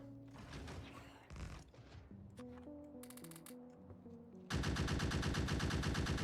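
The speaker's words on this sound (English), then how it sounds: "Time to deploy our forward turrets to get rid of the" Turrets fire at alien nests in the Factorio game with the Krastorio 2 mod, a rapid mechanical gunfire rattle layered over game tones, becoming loud and continuous in the final seconds.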